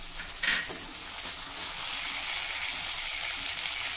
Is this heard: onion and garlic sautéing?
yes